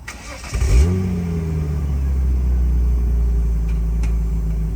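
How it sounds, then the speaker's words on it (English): A Holden VL Turbo car engine fires up with a brief revving surge, then settles into a steady, loud, low rumbling idle that holds close by for several seconds. "we are in the VL Turbo, and I have not driven one of these in many, many years"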